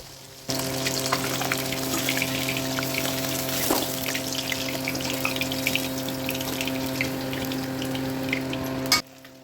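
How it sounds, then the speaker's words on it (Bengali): Lata and shol fish frying in hot oil in a wok, a dense, steady crackling sizzle that begins abruptly and holds at an even level, a low hum beneath, and a sharp sound just before it cuts off. "কড়াইয়ের তেলটা খুব ভালো করে গরম হয়ে গেছে এবারে আমি ভেজে নেব মাছগুলো"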